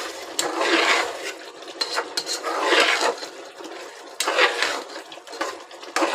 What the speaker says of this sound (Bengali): চিকেনটা এখন ভালোভাবে কষাতে হবে।